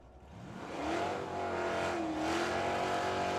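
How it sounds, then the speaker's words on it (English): Drag racing cars, a Dodge and a Belvedere, roaring down a track at Firebird Raceway in Phoenix, loud engine revving and rising in pitch as they accelerate, sustained and close with no talk. "Justin Adams with the Dodge."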